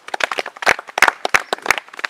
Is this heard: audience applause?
yes